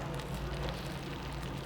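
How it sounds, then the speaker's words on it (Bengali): Bhetki fish roast sizzles on a hot plate at a restaurant, a soft, steady crackling hiss heard close but fairly quiet, with no voices. "ভেটকি রোস্ট সিজল করছে, সিজলিং ভেটকি রোস্ট"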